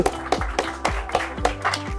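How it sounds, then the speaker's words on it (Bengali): An audience at an industrial PLC training center claps in a steady unison rhythm, close and fairly loud, over a tonal musical background. "হাইলাইট আশরাফুল হাততালি"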